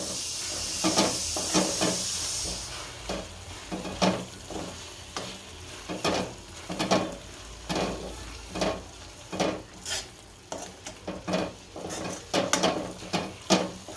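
Cooked gram flour and fenugreek leaves stirred in a pan, a spoon scraping in repeated rhythmic strokes with a soft sizzle underneath, close and fairly quiet.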